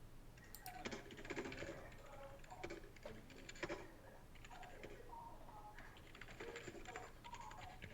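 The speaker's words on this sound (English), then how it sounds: "You're typing. I can't hear." Rapid clicking keystrokes come in bursts with short pauses, close and fairly quiet over a low steady hum.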